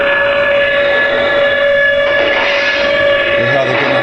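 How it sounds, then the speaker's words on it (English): A Lionel Texas Special model train diner car with StationSounds, its air brake sound effect hissing steadily alongside a low tonal hum and faint ringing, close and continuous throughout. "You can hear the air brakes."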